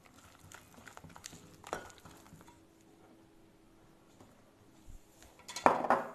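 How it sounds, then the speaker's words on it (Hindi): A spoon works flour a little at a time into batter in a bowl for Mangalore buns. There are soft scraping and tapping clinks against the bowl, quiet and near, with a sharper clatter at the end. "अभी थोड़ा थोड़ा करके मैदा ले लीजिए और मिक्स करते जाइए।"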